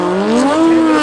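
A four-rotor rotary-powered Supra drift car sliding smoothly on a track, a loud sustained engine howl rising in pitch over a brief stretch, heard from a distance with no voices.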